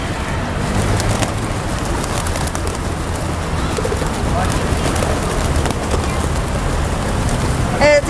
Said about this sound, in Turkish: kuşları da besleyelim